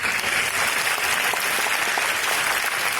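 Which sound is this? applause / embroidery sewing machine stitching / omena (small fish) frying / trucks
applause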